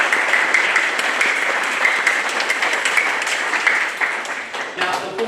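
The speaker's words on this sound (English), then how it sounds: "Please give them a round of applause" An audience at a taekwondo club presentation and party applauds the medal-winning poomsae team, a continuous dense round of clapping with some cheering, tapering off near the end as a voice returns.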